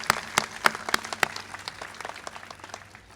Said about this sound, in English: Please, everybody, another round of applause for all our musical entertainment tonight.